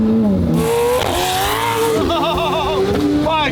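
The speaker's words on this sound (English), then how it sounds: "This thing has the loudest blow-off valves. You'll hear them in a minute." McLaren 600LT supercar engine revving hard up close with loud blow-off valve whooshes and fluttering chatter as the revs drop, continuous and dense over about three and a half seconds.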